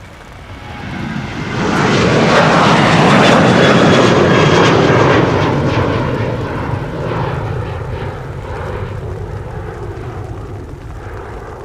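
An airliner departing runway 36L at Amsterdam Schiphol in rain builds into a loud, broad jet roar that peaks close by, then slowly fades as it climbs away, with no voices.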